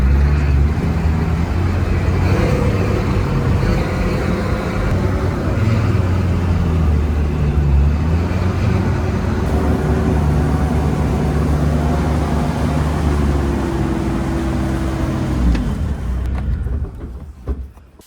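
A Sherp Pro amphibious ATV's engine runs loud and close for a long stretch, a heavy droning rumble with slight shifts in pitch that fades away at the very end.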